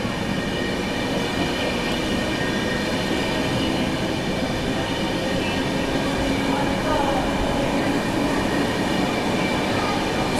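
The Sampark Kranti Express, riding fast alongside the Valsad Subedarganj Special it is overtaking, gives a loud, continuous rumble with steady wheel and carriage noise throughout.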